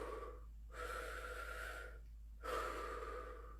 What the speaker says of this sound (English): when you breathe from your diaphragm, you're extending your lungs and you're breathing like this.